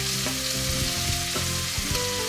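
Meat sautéing with pepper, salt and pork cube in a pan for lomi, a dense continuous sizzle with soft scraping stir strokes and low clunks under it.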